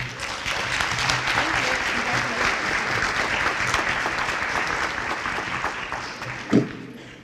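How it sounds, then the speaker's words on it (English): Sustained audience applause at a campus awards ceremony, dense steady clapping filling the whole stretch with a single louder clap or thump near the end. "One more round of applause."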